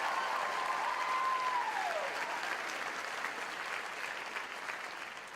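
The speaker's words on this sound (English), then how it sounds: "They deserve an even louder applause" Graduation audience applause at a December undergraduate commencement, a big hall full of steady clapping that slowly thins out over several seconds.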